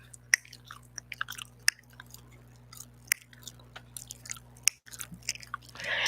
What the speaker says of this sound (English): Nice gum chewing.